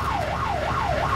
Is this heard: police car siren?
yes